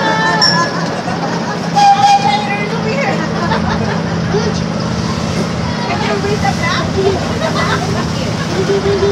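Grand Sierra Railroad passenger train rolling along with a steady low rumble and clatter, heard from on board, while an announcer's voice speaks over the train noise throughout.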